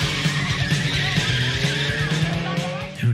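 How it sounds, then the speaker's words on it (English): A black Ferrari in a 1980s sci-fi film tears away on a getaway, its tyres skidding and squealing over a steady engine roar that stays loud and close throughout. "Our robber takes off and makes his getaway in a sweet black Ferrari."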